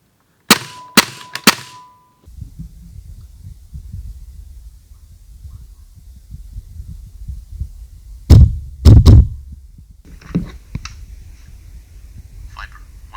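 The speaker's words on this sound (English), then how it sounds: "For this we will take a couple of shots with a gas-powered airsoft gun to show you." Three sharp, quick shots from a gas-powered airsoft gun open the sequence, followed by hiss and two heavier thumps heard through an electronic hearing-protection headset, with faint radio-like voice bits near the end.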